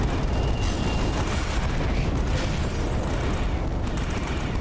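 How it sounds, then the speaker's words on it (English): Purple explosions in the space shooter game Starlight: Eye of the Storm, a dense, loud barrage of booming blasts and rumbling fire that rolls on without a break. "Not often you see purple explosions"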